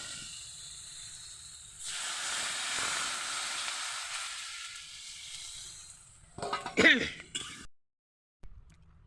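Water poured into a pan of sizzling Bengali fish curry with potato, a loud hiss and steam burst that fades, followed by a few clattering utensil knocks and brief quiet.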